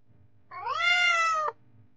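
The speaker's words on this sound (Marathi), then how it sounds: "कॅट म्हणजे मांजर." A cat gives a single clear, close meow about a second long, rising and then falling in pitch, against a quiet background.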